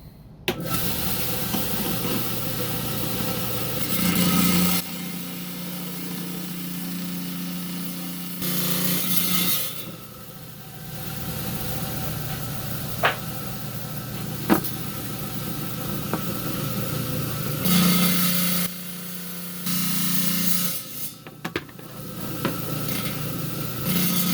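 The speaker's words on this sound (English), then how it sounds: "we're down here in my high-tech 10-inch slab saw. I'm going to start here to trim this off." A 10-inch slab saw trims a piece of silver lace onyx, its loud grinding whine steady throughout with shifts in pitch and level as the blade works the stone, plus a few sharp ticks.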